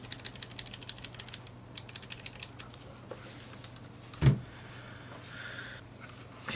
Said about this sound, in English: And this is Cherry MX Blues. So that's what it sounds like without keycaps.